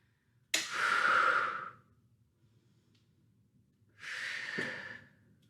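Two long, deep breaths during resistance training, the first a strong, sudden exhale lasting over a second, then a pause and a second softer, airy breath; close and alone, no talk.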